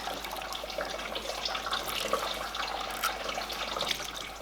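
Water splashes and trickles steadily into a basin as something soaked is wrung out, a continuous wet pattering with no voices.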